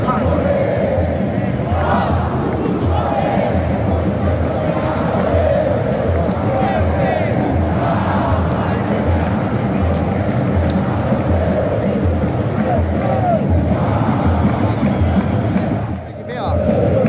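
Home fans at a Corinthians versus Cuiabá Brazilian league match in 2023 chant and shout in protest across the stadium, a dense and loud crowd roar that keeps going, with a voice speaking nearby.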